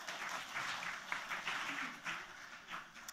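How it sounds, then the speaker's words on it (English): Audience applause at a judicial conference, a moderate wash of clapping from a seated crowd that swells and dips in short bursts, heard at some distance in a large hall. "Let's give a big round of applause."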